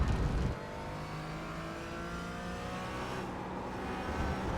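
Porsche 718 Cayman GT4 engine in the iRacing sim at Okayama, a steady loud drone with rising harmonic lines as it accelerates through the gears, continuous and close with no talk over it.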